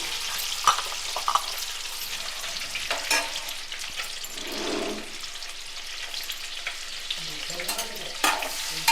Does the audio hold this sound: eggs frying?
yes